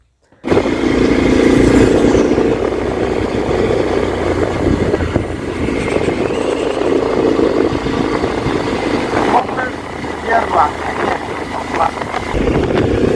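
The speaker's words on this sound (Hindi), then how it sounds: "मेरा दोस्त बाइक चला रहा है" A friend rides a motorcycle at a fair outing, its engine droning steadily and loud throughout, with road rumble and wind noise and occasional background sounds.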